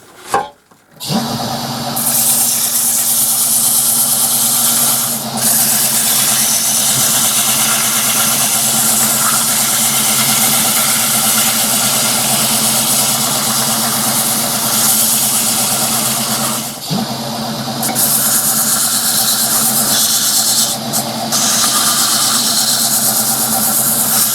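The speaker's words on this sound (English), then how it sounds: "I'm just about to give it a bit of a wipe over with some sandpaper" A wood lathe runs with a steady, loud motor hum while a natural live-edge wooden goblet is sanded with sandpaper, a continuous abrasive hiss over the drone after a brief start-up, alone without talk.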